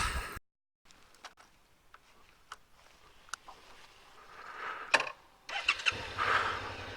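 A Suzuki V-Strom 650 XT motorcycle sits on a dirt road in Bowling Green Bay National Park, with a few faint ticks and clicks before the engine cranks and catches near the end, then settles into a low idle.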